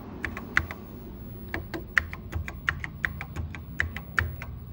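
Keys clack on an Apple IIe computer keyboard as a command is typed, a close, uneven run of sharp individual keystrokes with short pauses between them.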